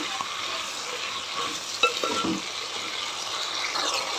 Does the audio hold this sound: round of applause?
no